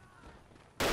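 A gunshot goes off in the World War I shooter Verdun, a sudden loud blast near the end after quiet background ambience.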